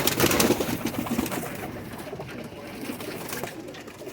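Pigeons kept as a hobby coo softly amid a busy, noisy background of rustling and scattered sounds, with no clear talking.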